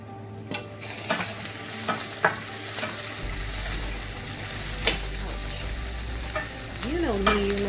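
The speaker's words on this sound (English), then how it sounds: "I'm going to sweat these onions until they're done" Onions with cayenne pepper sweat in a pan, sizzling steadily while a utensil stirs and taps against the metal in irregular close knocks.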